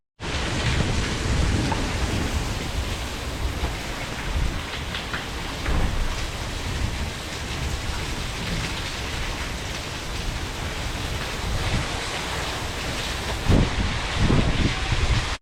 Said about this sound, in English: it's full on hailing, as you can hear from the roof